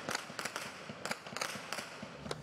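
Gunfire during a police operation in a Rio de Janeiro favela, the Complexo da Penha: a rapid series of sharp cracks and pops echoing at a distance, fairly faint and irregular, with no voices.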